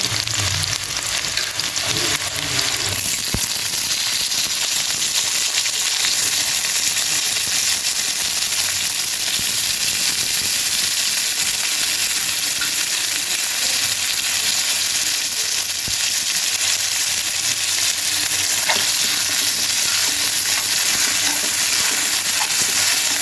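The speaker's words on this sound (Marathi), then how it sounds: "बटाटे चांगले होऊ द्यायचे तेलामध्ये थोडा वेळ।" Diced potatoes fry in hot oil for sabudana khichadi, a dense, even sizzle that crackles steadily and close-up for over twenty seconds with no talk.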